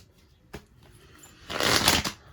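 Tarot cards give a single snap, then a brief riffling shuffle up close about a second later, loud for an instant against an otherwise quiet room with no speech.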